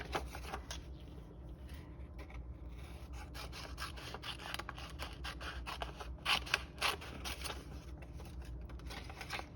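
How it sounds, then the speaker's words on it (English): Scissors snip through paper being trimmed to size for a handmade journal, a quiet close series of cuts and rustles with short pauses between them. "we're just going to cut this down to size"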